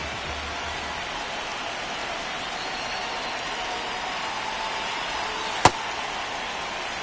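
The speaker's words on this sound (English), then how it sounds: "This rain is not letting up." Steady rain hisses over a baseball stadium in MLB The Show, a constant broadband wash of drops with one sharp click near the end, no voices present.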